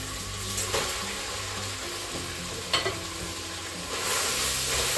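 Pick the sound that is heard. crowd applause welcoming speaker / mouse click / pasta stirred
pasta stirred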